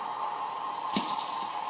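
Water filling a cup for pasta dough, a steady trickling hiss with a brief splashy burst midway, close and fairly quiet with no talking.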